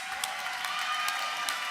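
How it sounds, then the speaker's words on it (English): Audience applause at an awards ceremony, a steady wash of many hands clapping with a few sharper claps standing out, filling the whole moment without speech. "Keep those applause going for all of our incredible winners and nominees"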